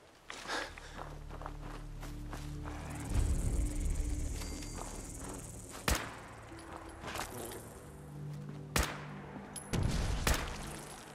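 Sharp explosion booms and impacts ring out several times over a low rumbling Fallout 4 game soundscape with footsteps, no voices.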